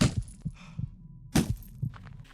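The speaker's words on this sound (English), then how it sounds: "I heard my heartbeat, so I knew there was an enemy there." Heartbeat warning sound in the video game Statues, signalling a nearby enemy: soft, low, paired thumps repeating in a steady pulse, with a couple of sharper bursts over the top.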